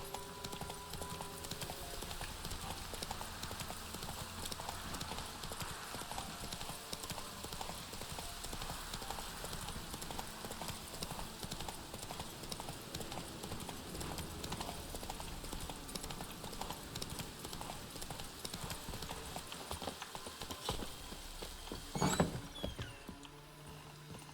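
Geralt's horse Roach in The Witcher 3 trotting steadily, with a continuous rhythmic clip-clop of hooves under a dense layer of game ambience and music, moderately close, with a brief louder knock near the end.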